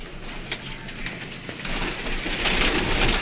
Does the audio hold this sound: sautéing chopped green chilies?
no